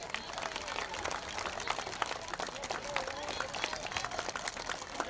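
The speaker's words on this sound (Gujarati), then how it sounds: "તમે તમારા પોતાના માટે એટલી તાળીઓ પાડો કે ક્યારે ન પાડી હોય" An audience at a prize distribution ceremony claps together in a dense, steady patter, moderately distant, with some voices underneath.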